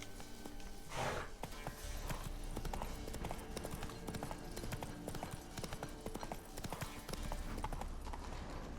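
Roach the horse trotting in The Witcher 3, a steady run of hoof clip-clops that fills the whole stretch at close range, with a brief burst of noise near the start.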